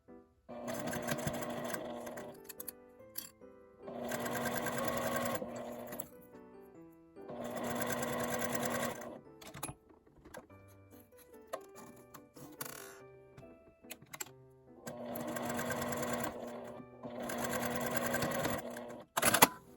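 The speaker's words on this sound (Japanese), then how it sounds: "留め具のところから端までファスナーの端を縫います。" Sewing machine stitching the end of a zipper on a small quilted nubi fabric mini pouch with a 12 cm zipper, in several steady whirring bursts separated by short pauses, close and clear with no talk.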